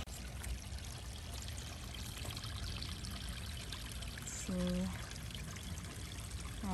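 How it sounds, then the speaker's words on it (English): Water pours and trickles steadily down a homemade upper stream in a garden pond, a continuous close wash throughout with a brief tonal sound near the end. "My dad's hard work building the upper stream."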